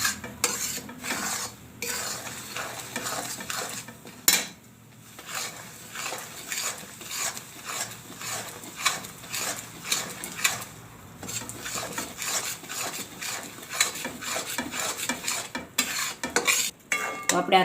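Adadiya mixture is stirred in a hot kadai with a steady, continuous run of metallic scraping and clinking strokes and a faint sizzle underneath.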